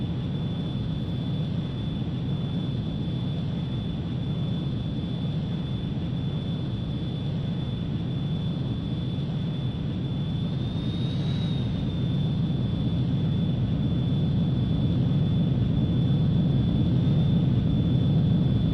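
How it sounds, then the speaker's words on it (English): A jet aircraft coming in to land on a carrier in the video game Ace Combat 3 gives a steady, continuous engine roar with a thin high whine, holding at an even level that swells slightly toward the end. "空母に着艦するわよ。"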